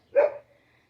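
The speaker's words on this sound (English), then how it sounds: "Sorry about the dog." A single short dog bark close by, a brief sharp burst lasting under half a second, then quiet.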